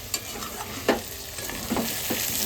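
Water goes into mutton frying in a pan during heavy rain: a dense, continuous sizzling hiss with a few soft stirring knocks scattered through it.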